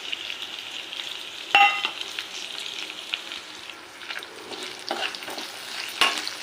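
Garlic fries in a pan for an amaranth curry, a steady bright sizzle with occasional louder clinks and scrapes of stirring, with no voices.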